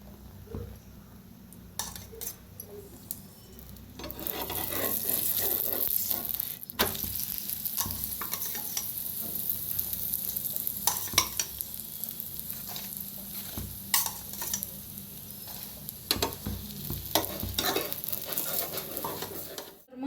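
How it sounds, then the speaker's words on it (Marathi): Puran poli flatbread sizzles steadily on a hot pan as oil is spread over it, a continuous close crackling fry with occasional spatula taps and scrapes, no talking. "आता फिरवून घेऊया तर फुगाय लागलेले आहे पोळी तेल लावूया"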